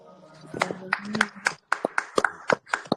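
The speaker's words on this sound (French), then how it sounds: "Clap your hands for Jesus, acclamez pour Jésus." Audience members at a church Bible study seminar clap in a quick, uneven rhythm, with a dozen or so close, sharp claps mixed among voices.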